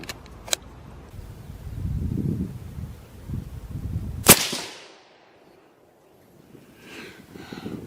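A single sharp, loud rifle shot from a CZ 600 Alpha 6.5 PRC cracks outdoors at a range, followed by a fading rolling echo, with faint handling rustle and a small click before it.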